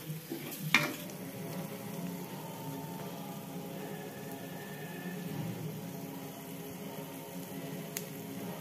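Cucumber chutney cooks in a pan while a spoon stirs it, a steady soft sizzle running throughout with a brief sharp clink near the start.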